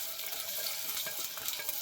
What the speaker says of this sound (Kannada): ಈರುಳ್ಳಿ ಫ್ರೈ ಆಗೋದು ಸ್ವಲ್ಪ ಲೇಟ್ ಆಗುತ್ತೆ